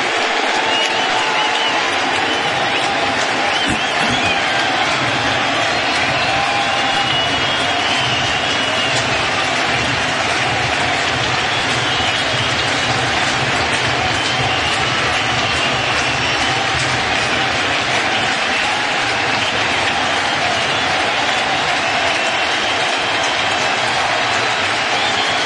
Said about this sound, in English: And that'll get the crowd to its feet here at Citi Field.